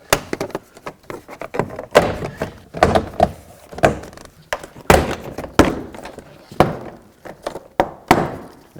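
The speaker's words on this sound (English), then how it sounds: "take a plastic trim tool and just go around, pop off all the push clips that hold this door panel onto the door" Plastic push clips popping loose as a trim tool pries around the door panel of a 2009-2015 Toyota Prius, giving a steady run of sharp, close thunks and snaps with knocking and rattling between them.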